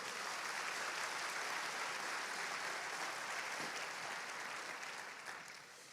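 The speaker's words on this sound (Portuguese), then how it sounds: "Alguém pode aplaudir ao Senhor?" Church congregation applauding during a sermon, a continuous even wash of clapping at moderate distance that fades out toward the end, with no speech over it.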